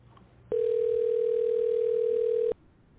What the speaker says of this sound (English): Dialing in Terrence.